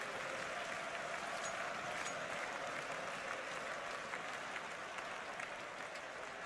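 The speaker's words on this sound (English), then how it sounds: "The crowd has gone absolutely mad here." A large crowd at the Royal Arena in Copenhagen cheers and applauds during a Counter-Strike esports grand final, making a dense, continuous roar of clapping and shouting that holds steady for the whole stretch.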